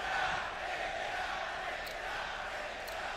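A large esports arena crowd roars at the FaZe Clan versus Cloud9 CS:GO ELEAGUE Major 2018 grand final, a steady distant wash of cheering and murmuring that holds throughout.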